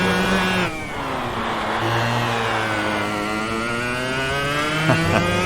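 A go-kart in the Automobilista racing game drives the Genk circuit, its small engine buzzing and rising and falling in pitch through revs and gear changes, loud and continuous with no talking.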